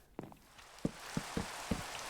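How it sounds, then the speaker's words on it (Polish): Rain falling in the Minecraft video game, a steady soft hiss beneath a few distinct, fairly loud droplet-like taps spaced irregularly, with no talking. "Nie no, jeszcze deszcz."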